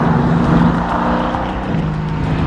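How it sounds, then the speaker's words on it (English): A 2016 Mercedes-AMG GT S engine being shifted manually through downshifts gives off a loud, steady, rumbling drone that shifts slightly in pitch partway through, with no talking. "And the noise, particularly on downshifts, oh, so much fun."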